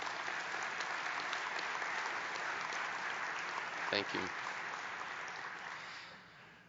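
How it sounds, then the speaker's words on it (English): A conference audience gives a sustained round of applause at a medical society presidential address. The clapping is dense and steady and slowly fades out toward the end, with a brief spoken voice partway through. "I'm going to ask those two to also stand up and take a round of applause as well"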